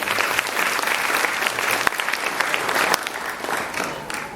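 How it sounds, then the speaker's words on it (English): Guests at a brunch honoring VIPs applaud, a full, dense burst of clapping that holds steady and eases slightly toward the end. "Give her a round of applause."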